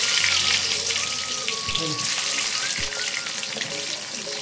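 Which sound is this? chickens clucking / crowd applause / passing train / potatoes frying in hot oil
potatoes frying in hot oil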